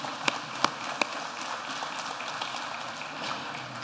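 A crowd at a high school graduation at Holyoke High School's Dean Campus applauds the valedictorian, producing a dense, even wash of clapping with a few sharper, closer claps near the start.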